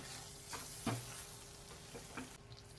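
Spice masala frying in oil for Khandesh-style shev bhaji, a soft continuous sizzle broken by several light spatula scrapes and taps against the pan, with no voices.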